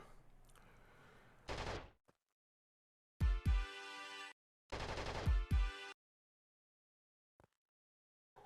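Gunshots in Flashback on the Mega Drive: a short burst of fire, then two longer bursts of rapid shots with buzzing tones, separated by silence, crisp and fairly loud, with no voices.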